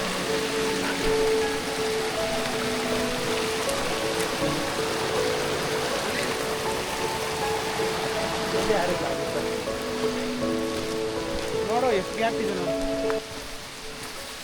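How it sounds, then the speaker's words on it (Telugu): Rain falls during a trek near a stream in Kudremukh, a steady hiss of rain and flowing water with faint tonal background sounds, softening slightly toward the end, no clear speech. "నేను ఎలా అయితే ఎక్స్పెక్ట్ చేస్తానో వర్షం పడాలని, అలానే వర్షం పడుతుంది"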